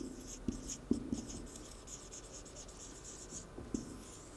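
Chalk or marker writing on a classroom board during a French language lesson, quiet scratchy strokes with a few sharp taps near the start and end, close and faint in a hushed room.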